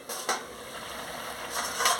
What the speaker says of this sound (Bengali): খুলে নিয়ে ভালো করে নাড়িয়ে নিচ্ছি